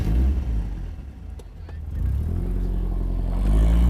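A BMW 1.8 coupe drives off, its engine revving and receding over a few seconds with road noise, while a voice speaks briefly over it.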